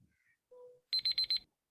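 Quiz timer alarm at a corporate quiz in Chennai: a short tone, then four rapid bright electronic beeps in quick succession, loud and clear with no talking over it.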